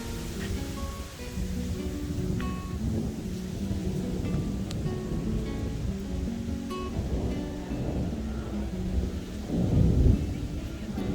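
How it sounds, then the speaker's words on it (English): Low thunder rumbles and rolls on through a steady rain-like wash, swelling into a louder roll near the end. No voices. "Thunderstorm."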